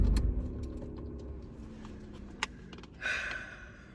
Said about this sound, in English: Let me turn this car off.